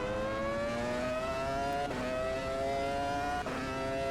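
A Formula V10 race car in the Automobilista 2 racing game at Jerez screams at high revs, its steady harmonic whine climbing in pitch with two quick upshifts, loud and continuous with no talk.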